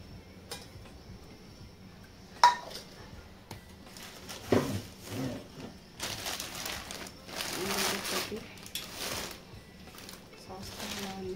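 Stainless steel cookware, including a fry pan, is handled indoors, giving a few brief metallic clinks and knocks scattered among quieter shuffling sounds while someone talks throughout.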